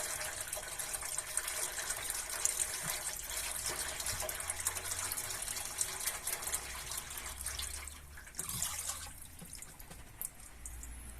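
Water pours into fermented plum mash in large vessels ahead of plum brandy distillation, a soft steady trickling and splashing that eases toward the end.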